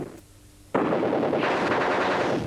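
Gunfire and explosions from the 1993 video game General Chaos, where soldiers fight with grenades, flamethrowers and machine guns: a brief quiet passage, then a sudden loud, dense burst of shots and blasts that carries on steadily.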